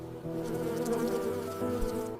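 Steady insect buzzing, like bees, hums at a low, even drone for a couple of seconds, close and continuous with no voices.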